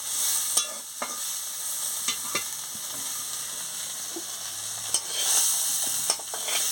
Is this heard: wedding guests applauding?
no